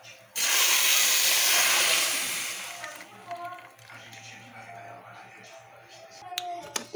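Blended lemon juice is poured into a hot pan with grated soap on a lit stove, giving a sudden loud sizzling hiss that slowly fades into softer crackling and a few small clinks.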